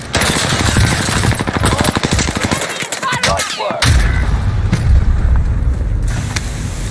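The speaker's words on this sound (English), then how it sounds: "Allied precision airstrike." Rapid gunfire bursts and heavy blasts from an airstrike in the video game Warzone's Operation Monarch mode, loud and dense, with a brief lull midway before the battle noise resumes, and voices faintly mixed in.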